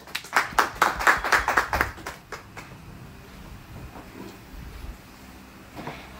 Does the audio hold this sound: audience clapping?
yes